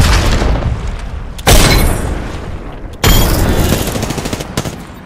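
Two heavy grenade explosions in a battle royale video game, each a sudden loud boom with a long rumbling decay, spaced about a second and a half apart, with sharp gunfire-like crackle trailing the second blast.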